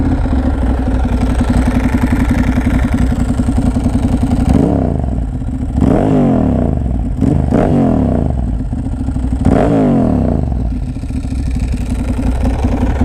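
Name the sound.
2009 Ducati Monster 1100 with Leo Vince exhaust riding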